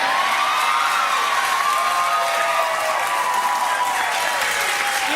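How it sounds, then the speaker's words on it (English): A television studio audience at a late-night talk show cheers and applauds loudly and steadily throughout, with whoops and shouts over dense clapping. "you cheer as much as you like"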